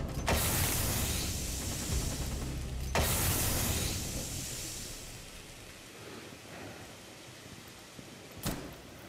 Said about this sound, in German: Ich lade nach.